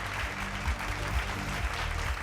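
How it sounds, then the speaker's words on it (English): Audience applause at a Zee Business Jagran CSR panel event, a continuous muffled rush of clapping with some low rumble beneath, steady and moderately distant. "have a big round of applause for him"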